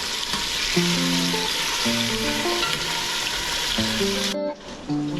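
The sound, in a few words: potatoes frying in oil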